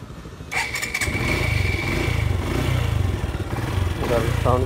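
A Suzuki Gixxer SF motorcycle engine cranks and catches, then settles into a steady, smooth idle close by, with a few revs near the end and speech faintly underneath.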